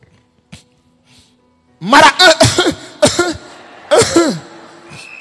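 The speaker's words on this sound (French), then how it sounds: "j'ai toussé" After a quiet start, a few sharp throaty bursts like coughing or throat clearing ring out close up in a reverberant room.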